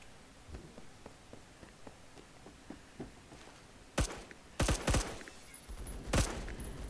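Tap-fired shots from a disappointing rifle in a shooter game, a few sharp cracks at about four to six seconds over a soft patter of lighter clicks and footsteps.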